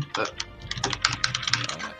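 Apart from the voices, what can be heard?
computer keyboard typing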